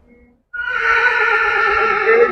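A Marwari mare lets out one long, loud neigh right after a brief quiet start, held steady and close by until the end.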